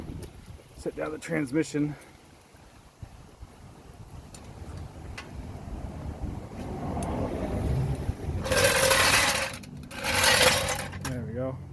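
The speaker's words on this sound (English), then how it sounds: "It's really freaking windy right now." Strong wind gusts around an outdoor car project with a knocking Subaru EJ255 engine, rising into loud broadband rushes near the end, with someone talking earlier over handling noise.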